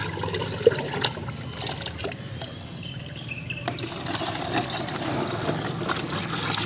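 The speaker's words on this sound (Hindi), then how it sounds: "मतलब जग ना पानी मग में डालने का।" Water poured from a jug into a mug, a soft continuous splashing pour with a few small clinks near the start, moderately quiet and close, with no talk.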